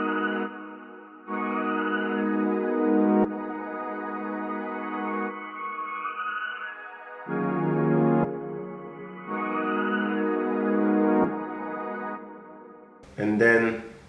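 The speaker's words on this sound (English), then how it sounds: "It sounds like this with the Valhalla reverb." Reversed, pitched melodic sample treated with Valhalla reverb in FL Studio for a Drake-style beat; sustained harmonic phrases swell and cut off in blocks, moderately loud, with no talking.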